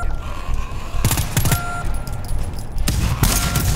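Bursts of gunfire from the player's weapon in the co-op shooter GTFO, with sharp broadband volleys near 1 s and 3 s over steady game ambience.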